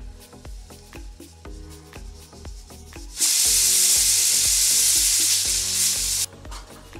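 Semolina (rava) goes into a pan on the stove with clinks of a spoon, then a loud burst of sizzling and stirring lasts about three seconds before dropping back to quieter scraping.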